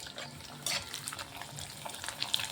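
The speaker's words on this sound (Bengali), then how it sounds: "এখন এর মধ্যে আমি ফুচকা দিয়ে দিলাম। ফুচকাগুলো ভেজে দিচ্ছি।" Fuchka frying in hot oil in a pan, a steady, fairly quiet crackle and hiss with brief louder bubbling bursts.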